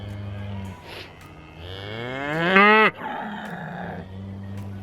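A herd of cattle on a farm lowing close by, with one long, rising moo that swells loud and then cuts off, amid other overlapping lower moos and calls.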